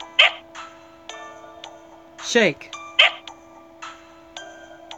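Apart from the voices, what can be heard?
dog barking in video game Fate Grand Order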